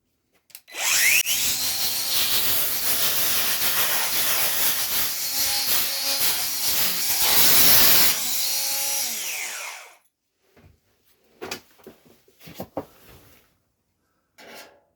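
A power tool slices a slit across the bottom of a Ford Escort MK1 front panel, a loud, steady high-pitched cut of about nine seconds that ends abruptly, followed by a few short scraping and clanking noises.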